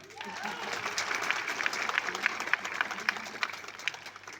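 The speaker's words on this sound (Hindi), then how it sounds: "ताली तो बजनी चाहिए थी ना।" An audience at a talk applauds with steady, moderately loud clapping that fills the whole stretch, a murmur of voices mixed underneath.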